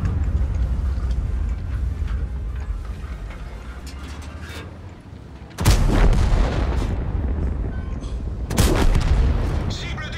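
Tank cannon shots in World of Tanks, two loud booming blasts a few seconds apart over a steady engine rumble and battle noise, with a voice talking in between.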